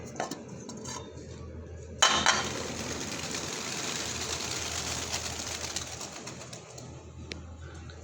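Pigeons coo softly in the background amid outdoor ambience, with a sudden clatter like dishes or utensils partway through.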